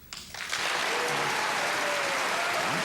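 Studio audience breaking into applause on a Johnny Carson talk show, starting with a few scattered claps and quickly swelling into loud, steady, sustained clapping from the whole crowd.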